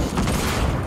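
Video game gunfire in a battle royale match, a dense burst of loud, close shots packed into under a second with no talking.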